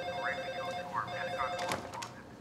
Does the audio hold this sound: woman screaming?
no